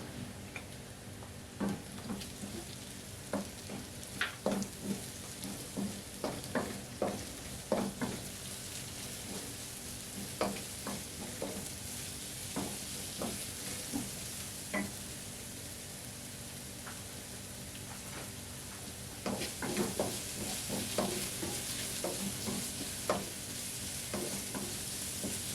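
Onion sizzles in a pan with garlic, a soft continuous frying hiss broken by scattered stirring clicks and taps of a utensil against the pan, close and fairly quiet.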